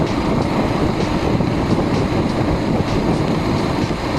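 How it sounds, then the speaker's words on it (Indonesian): A Bajaj Pulsar motorcycle engine drones steadily with a rough mechanical grinding from its balancer, loud and close, with rumbling low tones and no one speaking. "ada suara grinding ya di engine-nya karena efek balancer"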